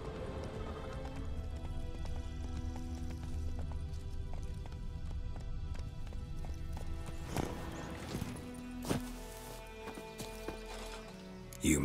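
Roach the horse gallops in The Witcher 3 video game, a steady rhythmic clip-clop of hooves over game music and ambience, with a louder thump near the end.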